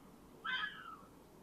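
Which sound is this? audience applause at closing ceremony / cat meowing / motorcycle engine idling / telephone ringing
cat meowing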